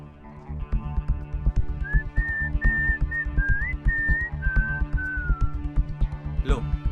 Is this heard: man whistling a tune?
yes